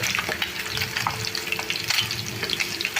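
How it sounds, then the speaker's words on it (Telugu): Fish pieces deep-frying in oil on a low flame make a dense, continuous bubbling sizzle with crackling pops, close and even throughout. "గ్యాస్ సిమ్లోనే ఉంచేసి చక్కగా ఫ్రై చేసుకుంటే డీప్ ఫ్రై అయిపోతాయి"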